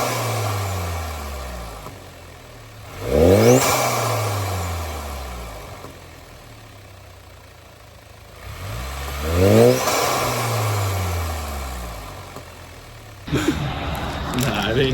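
A car engine with a new intake is started and revved, two strong rising-and-falling revs that swell and fade over a rumbling idle, ending in a sudden burst of broadband noise.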